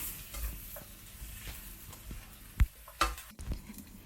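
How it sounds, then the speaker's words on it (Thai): Tofu and cabbage stir-fried in a pan, a soft sizzle under repeated spatula scrapes and clacks, with a few sharper knocks near the end and no talking. "หลังจากนั้นใส่ผักกาดค่ะ แล้วทำการผัดให้ทุกอย่างเข้ากันค่ะ"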